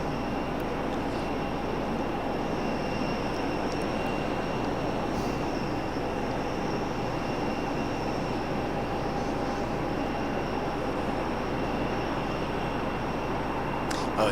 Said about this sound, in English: Getting ready to walk that Embraer out.